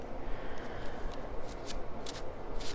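Tarot cards riffle and slide against each other in quick, soft bursts, close and fairly quiet, with no voices.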